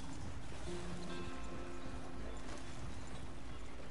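Horse galloping in the video game Red Dead Redemption 2, quiet rhythmic hoof clip-clops under a low ambient wash, steady and fairly faint throughout.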